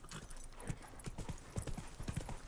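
A horse's hooves clip-clop in Witcher 3 in a steady walking rhythm of soft, close thuds over a low background hum, with no speech.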